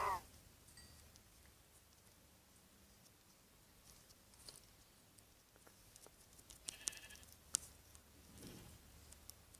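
Sheep bleating in a survival video game, a few quiet scattered calls over a faint background, with no talk over them.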